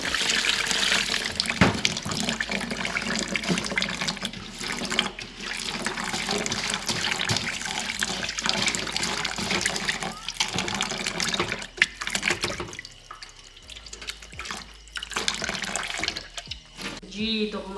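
Rice is washed under running water for a mutton pulao, with a steady loud rush of tap water and splashing that continues throughout and dips briefly near the end.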